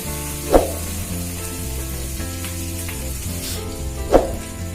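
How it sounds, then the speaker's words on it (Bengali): Ghugni masala sautéing in a pan, a steady low sizzle and frying hiss with two sharp clattering spatula strikes near the start and end, close up with no talk. "এরপরে ভালো করে আরেকবার কষে নেব।"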